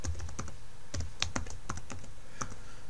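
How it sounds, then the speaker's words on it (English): Rapid typing on a computer keyboard: a quick run of close, distinct key clicks with short gaps, and no talking. "I'm just going to type in Corel X7"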